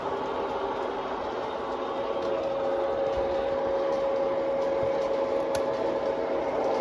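A model train runs on a layout's main line, giving a steady, continuous mechanical whirr with a faint motor hum and a light rattle, fairly close and with no talking.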